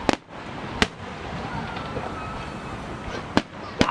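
Professional Fourth of July fireworks display at Bethpage Ballpark, with several sharp booming bursts over a constant crowd murmur and crackle, heard from a distance, and people talking nearby.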